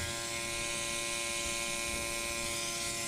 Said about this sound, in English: now here's the air compressor on